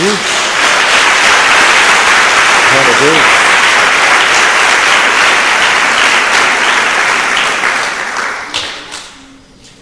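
Loud, dense applause from a church congregation praising Jesus fills the sanctuary, with scattered voices calling out underneath, sustained for several seconds before tapering off near the end.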